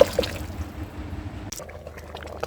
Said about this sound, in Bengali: দেখো বন্ধুরা, এই যে গরম জলটা দিয়ে দিচ্ছি